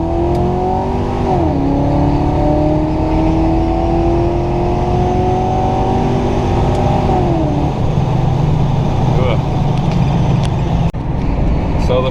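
A 1979 Chevrolet Camaro Z28 accelerates hard, its engine note climbing through rising pitches with a gear-change dip, then settling into a loud steady rumble up close.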